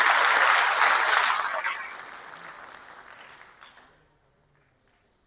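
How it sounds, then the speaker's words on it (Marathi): Audience applause at a political party workers' rally in Miraj, loud and dense at first, then gradually fading over several seconds into near silence, with no talk over it. "एक जोरदार टाळ्यांचा हात होऊन जाऊ"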